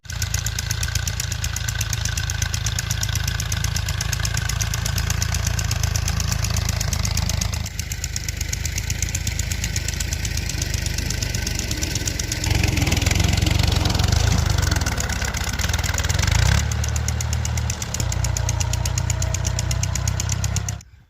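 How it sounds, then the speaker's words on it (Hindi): Tractor engine running in a wheat field before ploughing, a loud steady diesel chug close by that shifts in load and pitch partway through, continuous and alone without voices, then cutting off at the end. "तो अभी आ चुका है ट्रैक्टर, और ट्रैक्टर जो है यहाँ पे हल चलाएगा"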